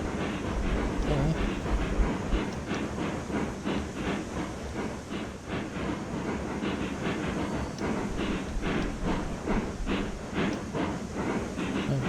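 Two steam locomotives in the video game Railroads Online, chuffing in a steady rapid rhythm over a continuous hiss and rumble, moderately loud and close.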